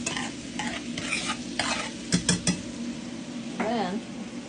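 Seasonings are mixed into chicken Alfredo ingredients in a bowl, with scraping utensil strokes and clinks against the bowl in quick bursts, close by, and a voice briefly near the end.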